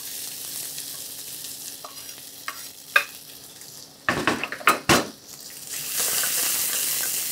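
Ginger, garlic and chopped red chili frying in a pan: a quiet sizzle, then a burst of sharp crackling as ingredients drop in, easing into a steady loud hiss. No one speaks.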